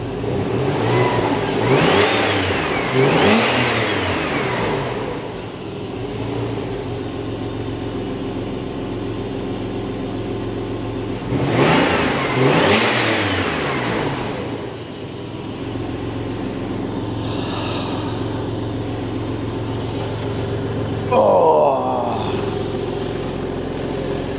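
A Porsche Boxster 986 engine running while warming up after air oil separator trouble, a steady near idle rising into two loud revving swells, then settling back to a low even hum.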